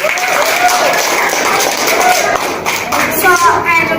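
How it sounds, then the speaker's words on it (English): Applause from an audience at a university debate club event, a busy mix of clapping and shuffling that spreads over the room at fairly strong level, with some voices in the background. "Give applause for us, guys."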